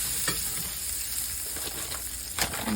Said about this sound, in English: I'm just going to slice these in half and throw them down in my skillet.